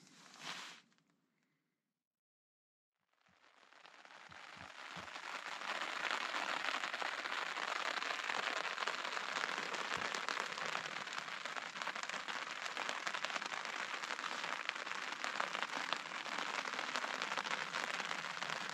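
Steady rain drums on an emergency shelter in the forest at night, a dense, even hiss that starts after a brief quiet and holds unbroken, with a few heavier drops tapping near the start.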